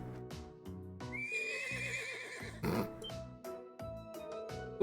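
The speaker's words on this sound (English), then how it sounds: "This horse recently arrived from the North Highlands. He's still young so he hasn't quite grown accustomed to the stables yet." A young horse newly arrived from the North Highlands whinnies and neighs in the Trails of Cold Steel video game, a long wavering neigh heard over steady game music with hoof clip-clops around it.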